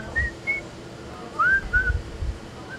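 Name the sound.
person whistling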